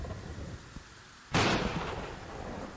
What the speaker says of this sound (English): Also, that lightning is loud.